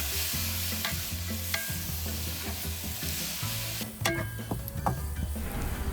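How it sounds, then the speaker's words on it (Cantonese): Fried rice cake cubes tossed with sauce in a wok at a Malaysian street stall, a steady close sizzle under repeated metal spatula scrapes and clanks, with a brief lull near the four-second mark before the stirring resumes. "就落埋啲醬汁，一齊爆香佢"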